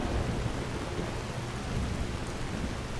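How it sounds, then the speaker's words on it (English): Steady rain from the video game Skyrim falls as a dense, continuous hiss with low rumbling underneath, holding an even loudness throughout with no voices. "Skyrim's water. The rain."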